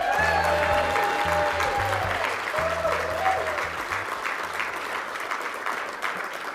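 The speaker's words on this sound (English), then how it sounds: "Keep the applause coming for one more round for this 2024 class of the National Lacrosse Hall of Fame class." Audience at the National Lacrosse Hall of Fame induction ceremony gives sustained, dense applause for the inductee class, a loud continuous wash of clapping with low music tones beneath that fades slightly toward the end.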